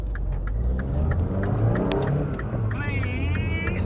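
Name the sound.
Mini Cooper R56 engine revving while cold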